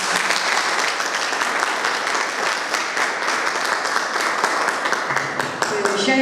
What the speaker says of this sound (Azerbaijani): Onları gəlib ürəkdən alqışlayın.